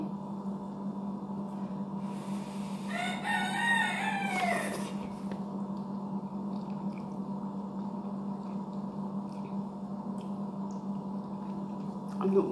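A rooster crows once, loud and fairly close, over a steady low hum; the rest is just background drone.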